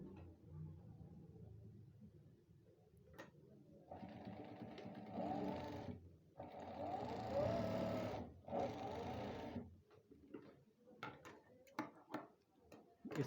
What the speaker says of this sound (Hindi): इस तरह से इसको पहले हाफ पैर पे सीधी साइड पे सिलाई कर लेनी है।